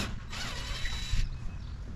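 Ratchet wrench working on the leg bolts of a grill gazebo during assembly, a steady mechanical clicking and grinding that runs for most of two seconds, close up with no talking.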